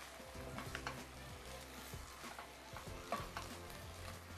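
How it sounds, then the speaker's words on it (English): Curry is stirred gently in a pot over steady sizzling, with soft scraping strokes and small clinks rising from a constant frying hiss, close up and without speech. "So I'm just going to stir gently."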